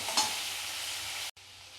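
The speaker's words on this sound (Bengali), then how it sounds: "হলুদ দিয়ে তাকে একটুখানি ভেজে নেব" Potato fries with turmeric in a pan, making a steady, close hiss of sizzling oil with a light stirring scrape early on. It breaks off for a moment before the sizzle resumes.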